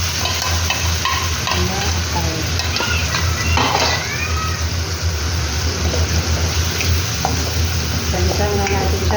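Marinated chicken liver sizzles and crackles steadily in a frying pan as a utensil stirs and scrapes against the metal, loud and close throughout with no talk.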